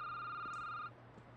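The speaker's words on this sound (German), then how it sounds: "Wenn das Telefon klingelt" Telephone ringing in the horror game Security Booth: a steady electronic ring tone sounds for just under a second, then cuts off, leaving a low background hum.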